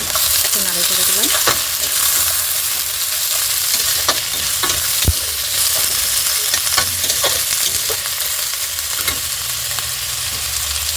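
Sidal chutney with green chilli and garlic frying in a pan, a constant loud sizzle broken by scattered scrapes and knocks of a spoon stirring against the pan, close and without speech.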